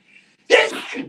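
A person sneezes once, loud and close, a sudden sharp burst that tails off quickly, preceded by a faint intake of breath.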